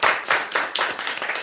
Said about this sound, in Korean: 우리 13일 격려의 박수 드리겠습니다